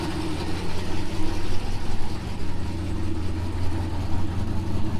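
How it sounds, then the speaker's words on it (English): A turbocharged LS engine idles steadily, its low rumble joined by the faint ticking puff of a small exhaust leak at the dump, close and continuous with no talking. "You can hear that little exhaust leak from the dump here."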